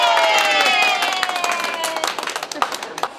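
Spectators cheer and clap at the sidelines of a township environmental-cup ball game tournament in Dongshi, Yunlin, with crowd noise and bursts of applause over busy background chatter.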